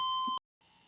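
A short electronic multimeter continuity beep, a steady tone that cuts off, a brief silence, then the beep resumes more faintly.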